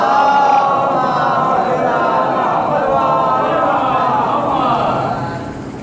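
Large mosque gathering at a Muharram majlis, crowd loudly chanting salawat in unison, a dense sustained roar of many voices that fades slightly at the end.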